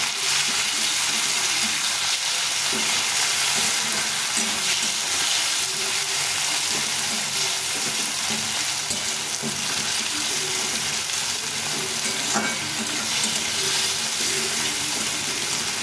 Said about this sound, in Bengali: টমেটোটা ভালো করে ভেজে নেব